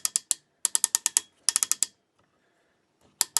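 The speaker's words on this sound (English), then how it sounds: "Nice clickety-clackety ratchets." Ratchet joints in the shoulders of a FansToys FT-03T Quakewave transforming robot toy click in quick bursts of sharp, close ticks, two runs of rapid clicks, a longer run, then a pause and a final short pair.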